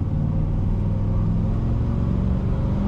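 A 1997 Chevrolet Silverado K2500 pickup idles steadily in a Minnesota winter setting, its low engine rumble loud and constant throughout with no talk.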